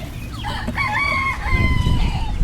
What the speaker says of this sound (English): Chicks and chickies.